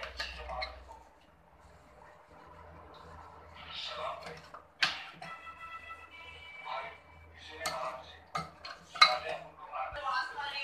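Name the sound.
mutton korma being served from a pot into a dish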